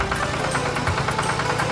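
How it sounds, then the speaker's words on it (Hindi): A tractor engine ploughing fields rumbles steadily with a rough, knocking mid-range chug, loud and close throughout the short stretch. "चंदू अपने खेतों में ट्रैक्टर से जुताई करता है।"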